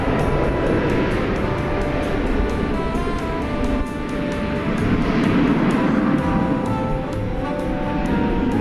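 An airliner takes off from runway 18 Left at DFW Airport at night, a loud, steady jet roar with a broad rumble and faint tonal whine holding throughout.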